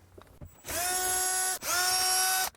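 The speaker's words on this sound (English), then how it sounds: "go ahead and grab a 10mm, the socket like this. Go ahead and remove that right here." A power tool spins a 10mm socket to remove a bolt inside a 2008–2009 Lexus LX570 dashboard, two close, loud whirring runs with a brief stop between them.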